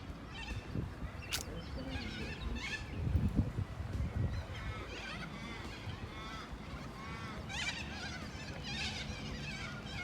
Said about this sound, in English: Those birds making all the noise are cockies.